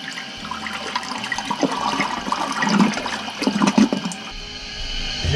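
Kohler one-piece toilet flushing and then refilling, a loud close rush of water that swirls and gurgles before settling into a steady hissing refill.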